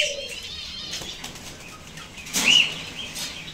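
A parrot beats its wings in a brief flurry while being caught by hand to move into a new cage, the flapping close and rustling with a short chirp partway through.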